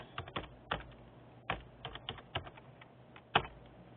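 Fingers type a library search on a computer keyboard, a quiet, irregular run of distinct key clicks with short pauses and one sharper tap near the end, no voices.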